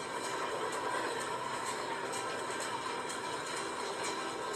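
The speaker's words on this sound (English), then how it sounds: "It's quite a long manifest train, that is." A long manifest freight train rolls past in a train yard, a steady broadband rumble and hiss with faint periodic clicks from the railcar wheels, continuous and fairly distant.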